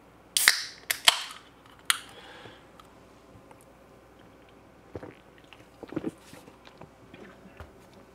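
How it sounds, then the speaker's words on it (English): A can cracks open nearby with a few sharp snaps and a hiss early on, followed by quieter clicks and small handling sounds. "I need to crack open this can."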